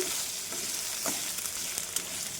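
Green chillies fry in a pan with a steady, close sizzle, broken by a few faint crackles and the light scrape of stirring.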